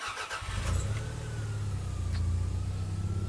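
Toyota Celica GT4 engine cranking and catching after sitting overnight, then settling into a steady, loud, low idle rumble close by.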